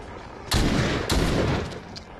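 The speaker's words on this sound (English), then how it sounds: "It's so funny just long-ranging zombies with a shotgun" A shotgun fires twice at zombies in The Walking Dead: Saints & Sinners, two loud booming blasts about half a second apart, each trailing into a rumbling decay.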